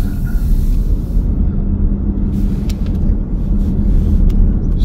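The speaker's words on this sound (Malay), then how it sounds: "Ini bunyi EV." A 2025 Lexus LBX hybrid glides in EV mode, heard from inside as a steady low rumble of road and tyre noise with no engine note, constant and fairly loud throughout.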